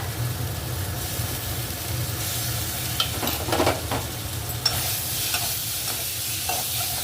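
Ginger and garlic paste frying and being stirred in a pan for a home-style egg curry with new potatoes, a steady close sizzle with occasional scraping stirs and no talking.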